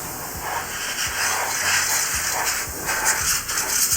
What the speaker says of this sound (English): So go ahead and just take your canned air